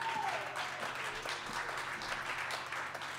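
Audience applause at an open-air rock concert, a steady wash of clapping that fades slightly toward the end, with a brief tone at the start.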